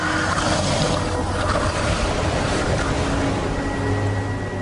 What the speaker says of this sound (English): The waves are getting worse.